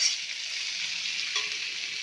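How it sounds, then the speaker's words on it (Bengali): Chopped tomatoes frying in a pan and being stirred, a steady soft hiss of sizzling oil throughout, fairly quiet and close with no talking. "এইবারে আমি এতে টমেটোগুলো দিয়ে দিলাম। টমেটোগুলো দিয়ে এইবারে একটু নাড়াচাড়া করে তারপরে"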